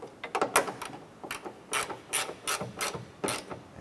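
Hand ratchet snugging down the hood molding fasteners on a 2004–2008 Acura TL, a close, quiet series of quick clicking bursts in an uneven rhythm.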